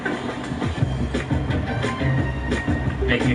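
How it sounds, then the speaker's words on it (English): A passing train rumbles along the rails with rhythmic clickety-clack under a steady wash of wheel and carriage noise, loud and close, with a light overlay of background music. "Catching my train."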